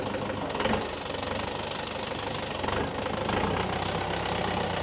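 A YTO EX 604 tractor engine runs in gear with a steady knocking diesel chug, close and fairly loud, rising slightly in intensity near the end.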